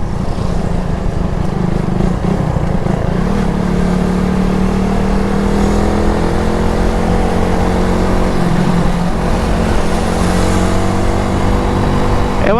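A motorcycle with a 1445 sprocket setup revs and pulls away under a steady, loud engine drone, its pitch rising in repeated sweeps as it gains speed, with wind noise and no voices.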